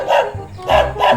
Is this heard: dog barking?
yes